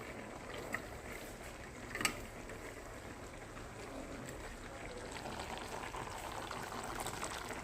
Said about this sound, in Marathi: चिंचेचा कोळ घातलेला आहे